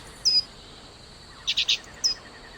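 Short bird chirps from the companion bird Cheep Cheep in the video game The Book of Unwritten Tales, a few bright tweets over a faint insect-like hum of the bees; no one speaks.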